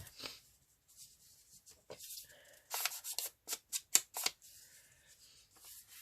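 Scissors snip paper for a Christmas collage art gluebook in a quick run of short, crisp cuts, close and fairly quiet, with a few softer paper rustles before and after.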